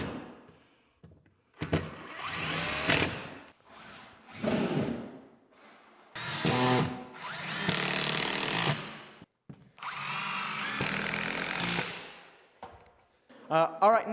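Power drill driving angle iron anchors into wall studs in a home workshop, heard as several loud whirring bursts of a few seconds each with short pauses between them.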